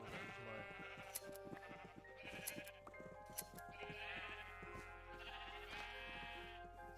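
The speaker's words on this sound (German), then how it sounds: "hier haben wir noch ein rotes Schaf" Sheep in the Minecraft video game bleat several times in succession, clear and prominent over a steady game background hum, with no talking.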